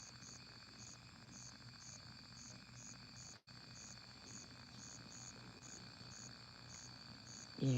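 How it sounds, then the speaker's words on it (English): Crickets chirp steadily through the night in a rural setting, a continuous high pulsing trill with a faint background hiss and a brief dropout midway. "Yeah, I love my crickets."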